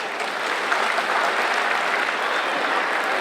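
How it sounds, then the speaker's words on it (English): A crowd at a Telugu community Dussehra and Diwali celebration gives the volunteers a round of applause: dense, steady clapping that holds at an even level throughout without pauses. "let's give them a round of applause."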